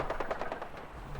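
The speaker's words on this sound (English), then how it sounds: "I hear gunfire." Video game gunfire in Fallout, a quick burst of about seven rapid automatic shots, fairly faint and distant, fading into a low background rumble.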